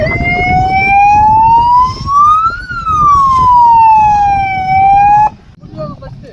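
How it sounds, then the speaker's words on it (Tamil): A fire truck siren wails loud and close during a fire and rescue department disaster-response awareness demonstration in Chengam, rising and falling steadily for about five seconds before cutting off, with a running engine rumbling underneath. "வண்டி அப்படியே ஸ்டார்ட் பண்ணி கொஞ்சம் சைரன் ரிவாலிங் போட்டுருங்க சார்"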